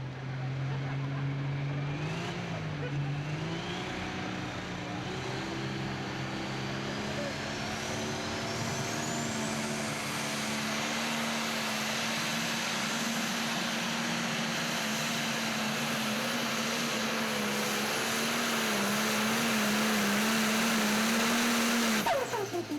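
A red diesel pro stock pulling tractor of some 3,000 horsepower roars loud and steady at a 2015 tractor pull in Franklin, Kentucky, its engine pitch climbing as it charges down the track.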